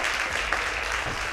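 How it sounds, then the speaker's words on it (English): An audience at a school debate grand finale claps for the winning team, a dense and fairly soft spread of applause that holds steady for a moment. "please appreciate them one more time with a round of applause"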